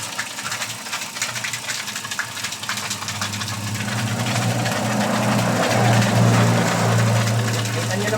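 Two motors in a homemade automatic foaming machine hum steadily, building to a louder low drone with a slight vibrating rattle, while a voice speaks over them early on.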